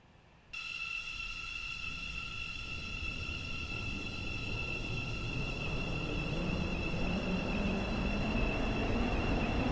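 A Stepford Connect train in a video game starts up abruptly, a high electric whine settling over a steady rolling rumble that builds gradually as it runs.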